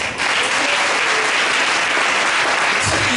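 A church congregation applauds loudly and steadily, dense continuous clapping filling the room for several seconds with no talk over it.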